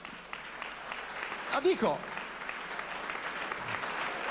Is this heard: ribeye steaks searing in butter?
no